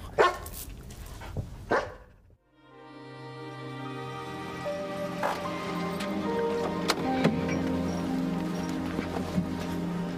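A dog barks in sharp bursts at the start, then a dense tonal, musical texture takes over after a brief drop to near silence, with the barking no longer clearly standing out.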